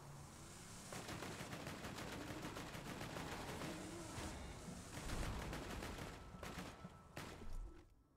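Continuous gunfire in the video game Borderlands 2, a dense sustained barrage of rapid shots and rattling bursts, steady and moderately loud throughout with a few sharper spikes near the end.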